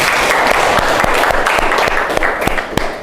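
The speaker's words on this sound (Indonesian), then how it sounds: "Kita kasih aplaus dulu." Students applaud in a classroom, a dense burst of clapping that holds steady for a few seconds and then thins out toward the end.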